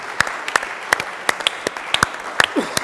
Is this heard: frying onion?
no